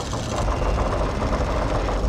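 A boat engine chugs steadily on open water in a tense film scene, a loud, low, continuous drone with a slight knocking rhythm.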